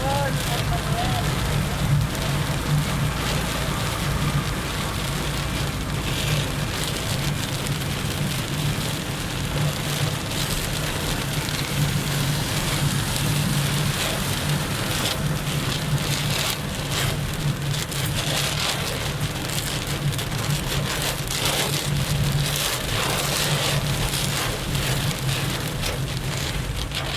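Heavy wind-driven rain pours steadily on a road and nearby surfaces, a dense continuous hiss with gusting swells, while people talk beneath it.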